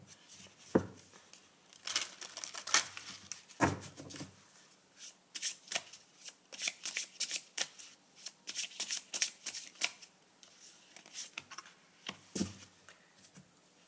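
Tarot and oracle cards shuffled and handled by hand, a long run of quick papery riffles and flicks, close and fairly soft, with brief pauses between bursts and no talking.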